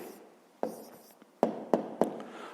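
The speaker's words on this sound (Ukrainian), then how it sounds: "Пишемо відповідь." A pen writing an answer by hand during a fifth-grade math exercise, soft close scratching with several sharp taps as the pen touches down on the paper.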